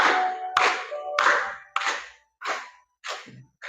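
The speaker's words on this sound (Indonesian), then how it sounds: "Boleh tepuk tangan." Students clap their hands in a school classroom session, a series of loud bursts of applause that rise and stop in turn with short gaps between them, no talking over it.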